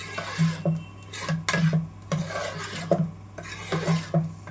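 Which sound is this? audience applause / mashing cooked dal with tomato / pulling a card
mashing cooked dal with tomato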